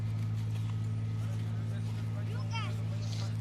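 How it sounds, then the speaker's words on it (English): Horse hooves from a carriage clip-clop on a bridge in Central Park, New York City, faint and distant beneath a steady low engine-like hum, while a person talks nearby. "This is like little horse thingy, the carriage."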